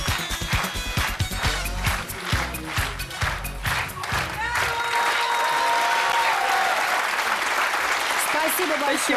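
An audience claps along to a Russian folk dance in a TV studio, starting as rhythmic, close, loud beats in time with the music and then spreading into broad, sustained applause.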